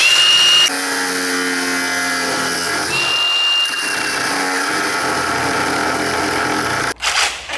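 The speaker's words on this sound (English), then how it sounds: "Just finished with the Sawzall over here." Sawzall reciprocating saw cutting through a bar on an S13 drift car, a sustained buzzing motor drone with a shifting pitch over several seconds, ending in a short clatter.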